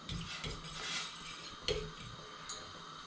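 A spoon stirs ingredients in an Omnia stove pot for Greek stuffed tomatoes (gemista), giving soft scraping with light metallic clinks and one sharper knock, close and fairly quiet, with no talking.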